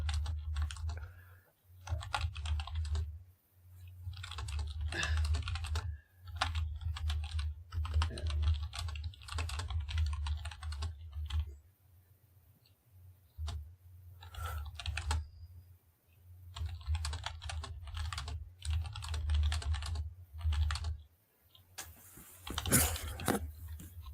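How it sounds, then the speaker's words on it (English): Steady typing on a computer keyboard, with rapid clicking bursts broken by short pauses, close and fairly loud throughout, with no talk over it. "Can you hear my keyboard typing?"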